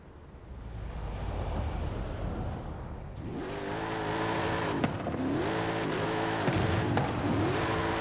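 Car engine revving and tyres squealing while drifting in Forza Horizon 5, steady and close, with pitch sweeps rising and falling as the car slides, starting after about three seconds of quieter rumble.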